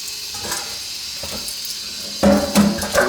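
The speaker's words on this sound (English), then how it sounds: "just rinse off the baking soda for a few times in the water" Pork ribs coated in baking soda are rinsed under a running kitchen tap, giving a steady hiss of flowing water. A louder splashing burst follows near the end as the ribs are handled.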